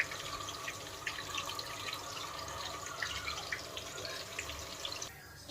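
Water drips and trickles from washed gongura leaves as they are drained in a kitchen, a soft, close patter that stops near the end.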